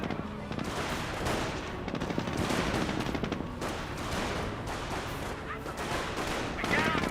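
Rattling gunfire and bursts of machine-gun fire from a Company of Heroes battle, dense and continuous with sharp repeated cracks throughout, mixed with game effects and a voice talking over the action.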